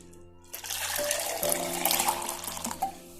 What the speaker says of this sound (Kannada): ನೀರನ್ನು ಸಹ ಇದರಲ್ಲಿ ಹಾಕೊಂಡ್ಬಿಡ್ತೇನೆ.